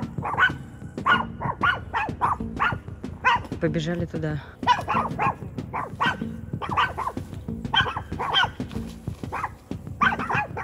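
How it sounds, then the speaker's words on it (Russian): Dogs bark repeatedly in short bursts, some sounding distant, while people talk over them. "чей-то ответный лай"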